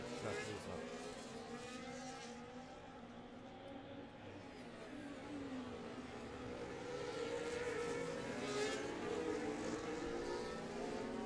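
Race cars in a sim racing game at a Spain round, their engines droning and whining steadily throughout, with the pitch rising and falling across several passing cars at moderate loudness.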